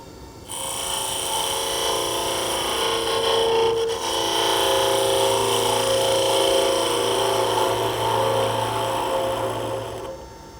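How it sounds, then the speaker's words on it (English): A woodturning tool tip takes a very fine slice of timber on a spinning lathe, giving a steady, fairly loud scraping hiss over the motor's hum that holds for about ten seconds before stopping. "just take a very fine slice by bringing the tip of the tool into the timber"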